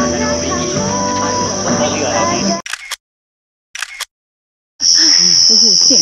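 Loud, dense crickets and cicadas trill continuously at night on Penang Hill, Malaysia, drop out abruptly for a couple of seconds with brief bursts, then return at full strength.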